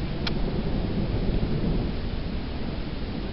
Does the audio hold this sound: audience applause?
no